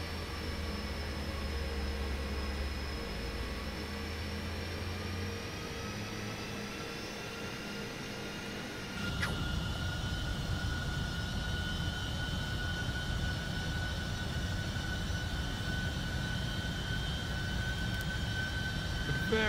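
Simulated Boeing 747-400F cabin ambience in a flight simulator as the flaps extend, a steady engine and airflow drone with a tonal whine that shifts partway through, continuous and moderately loud with no talk.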